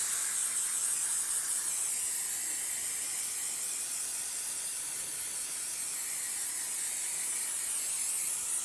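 A steady aerosol cleaner spray hisses close up onto the transmission oil pan area of a 2000-2005 Buick LeSabre, one continuous bright rush of noise that holds evenly from start to finish, with no voices.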